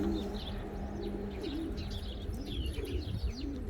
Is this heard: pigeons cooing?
yes